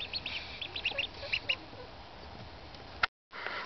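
Newly hatched ducklings, one still cracking out of its egg, give high, thin peeps in scattered bursts over a steady hiss, then a short sharp bump and a moment of dead silence.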